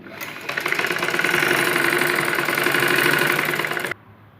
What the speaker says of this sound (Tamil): அதே மாதிரி இப்போ என்ன பண்ணணும்னா இதுக்கு மேலே ஒரு ஸ்டிச் போடணும்.